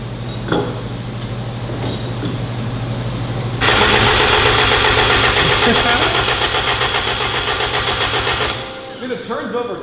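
A 1000 hp Honda engine fired up for the first time: cranking gives way to a loud, raw, steady running roar for several seconds before cutting back, with people talking nearby.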